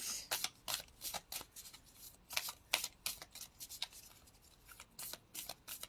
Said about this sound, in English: I'm just not sure if I've got the deck of cards.